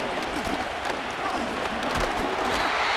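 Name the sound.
stadium crowd cheering in Madden NFL 25 video game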